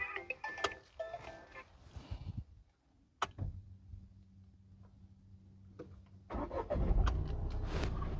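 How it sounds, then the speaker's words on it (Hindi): Car engine starting on a budget hatchback, a sharp crank catching into a low steady idle hum that runs for a few seconds before louder handling noises and rustling take over near the microphone; no talk. "और एक बार जो है इसका इंजन आपको स्टार्ट करके दिखाते हैं।"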